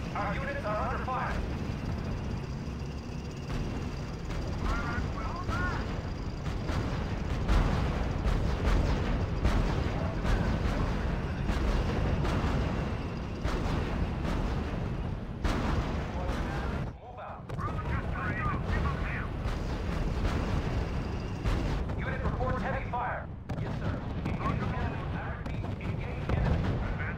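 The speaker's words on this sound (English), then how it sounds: "Our units are under fire." Continuous battle din in the strategy game RUSE, dense gunfire and booming artillery rumbling throughout with machine-gun bursts, loud and sustained, with voices speaking over it.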